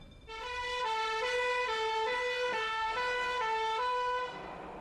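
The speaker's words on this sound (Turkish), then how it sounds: "Alarm çalıştırıldı ve itfaiye yola çıktı." A fire engine siren wails loudly nearby, stepping between two alternating tones in a steady repeating cycle before cutting off.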